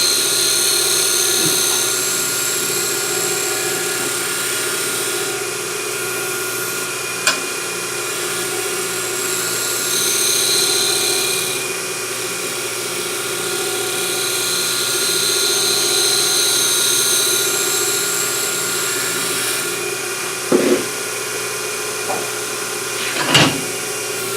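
A turned wooden box spinning on a lathe while being lightly sanded gives a continuous high whirring hum with swelling passes of abrasive rasp and a few brief knocks, close and fairly loud with no talk.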